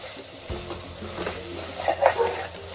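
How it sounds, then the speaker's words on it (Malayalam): Biryani masala being stirred into quail biryani in a pot: close, low scraping and soft knocks of a spoon against the metal, with a faint sizzle beneath. "അതിട്ടിട്ട് നന്നായി ഇളക്കണം"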